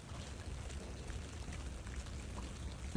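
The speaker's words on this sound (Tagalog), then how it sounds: "Sugod pa rin kahit ang ulan." Steady rain falls outdoors, a soft continuous patter of drops with a low rumbling wash underneath, faint and unbroken with no voices.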